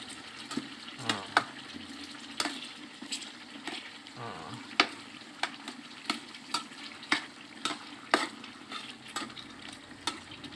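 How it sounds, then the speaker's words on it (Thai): Offal frying in hot oil, close busy sizzling and bubbling with repeated sharp crackles and spatters in an irregular rhythm, no voices. "ทอดเครื่องในจน สุกนะ"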